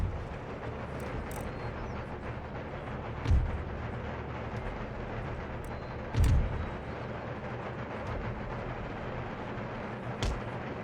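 Distant booming cannon artillery fire on a battlefield in the video game Empire Total War, with three dull heavy thuds spaced several seconds apart over a steady background rumble of battle.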